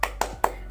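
A few sharp, evenly spaced hand claps, close and crisp, part of a rhythmic classroom clapping chant during an ice-breaking warm-up.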